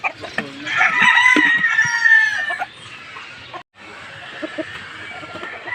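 Chickens cluck close by while a rooster crows loudly, followed by a brief pause and more scattered clucking.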